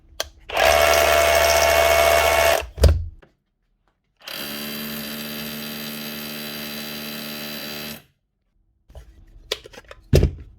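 A repaired DeWalt DCH273 rotary hammer drill, its jammed hammer mechanism fixed, runs in two bursts of a few seconds each, loud and close with a steady buzzing whine, separated by silence and followed by brief clicks.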